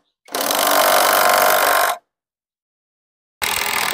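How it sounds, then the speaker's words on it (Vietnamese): A cheap Navara XR cordless impact wrench works on a 19 mm bolt on a car, giving a loud, harsh buzzing burst of nearly two seconds. After a silent gap, a second burst starts, up close, with no talking. "Dùng con Navara XR mở siết mở bô lông anh em nha."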